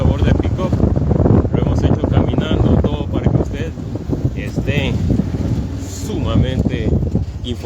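A mototaxi rumbles along a road in Livingston, Guatemala, its engine droning under heavy wind buffeting on the microphone while someone talks almost continuously over the ride.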